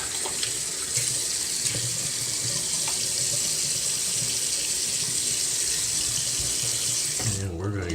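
A bathroom tap runs steadily into a sink while someone wets their face before a shave, a constant hiss of flowing water with small splashes, cut off abruptly near the end.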